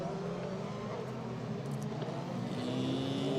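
Race cars at the Norisring street circuit run side by side, their engine drone steady and moderately distant with shifting pitch as they accelerate, under a faint commentary voice.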